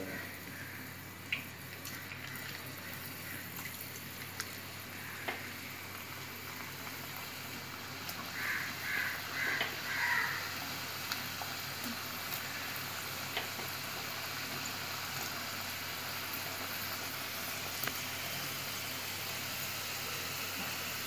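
Potato French fries sizzle steadily in hot oil over a medium flame, a continuous faint frying hiss with occasional small pops and no talking.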